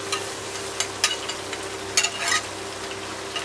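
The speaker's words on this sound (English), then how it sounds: "And this we are gonna keep on stirring" A spoon works through a thick flour paste cooking in a pan, steady soft scraping and light sizzling with a few sharper stirring strokes, close and without talk.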